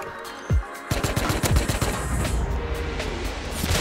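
Video game gunfire aimed at the player, a sharp shot followed by rapid strings of close, loud shots and bursts crackling over a steady background roar.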